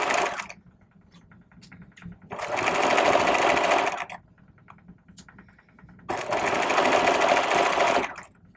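Sewing machine stitching a vest bag lining, running in two sustained loud bursts of rapid whirring separated by quieter pauses with faint handling sounds, close up.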